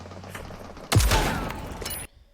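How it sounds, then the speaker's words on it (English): Gunfire between players in the battle-royale video game Super People: a short burst of rapid shots, loud and close, ending abruptly. "We see these two start shooting at each other, right?"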